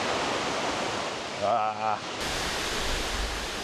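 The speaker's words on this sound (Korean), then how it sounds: "트레킹 초반에 멀리서 바라본 벨리키 폭포입니다." Veliki waterfall at Plitvice roars steadily from a distance, a broad continuous rush of falling water, while a person briefly exclaims over it partway through.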